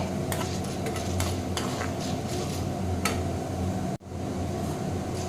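Urad dal fries in oil for a radish chutney, giving a steady close sizzle with repeated scraping stirs of a spoon against the pan and one brief drop in sound.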